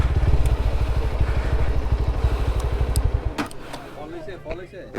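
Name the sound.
motorbike climbing a hill in Sukhia Valley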